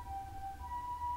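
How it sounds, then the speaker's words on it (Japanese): A faint ambulance siren wails outside near a home, a thin steady tone under a low background rumble, heard only briefly. "救急車も来たし、うちの近くに。"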